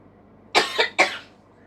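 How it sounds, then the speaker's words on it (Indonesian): Someone coughs twice in quick succession, close and fairly loud, with the first cough splitting into a double burst. Quiet room tone fills the gaps on either side. "Batuk."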